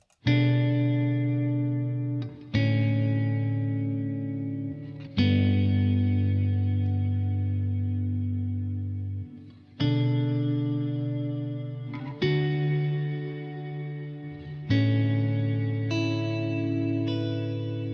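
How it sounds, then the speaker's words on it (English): Electric guitar chords ring out one after another, each washed in a big, cavernous 80s rack-style reverb from an effects pedal that swells and sustains long after the strike. "It's a big, cavernous 80s rack style reverb that just sounds so cool."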